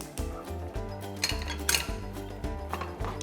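Potato gnocchi being stirred into sauce in a pan, a utensil clinking and scraping against the metal in a rhythm of about eight knocks, fairly quiet and close.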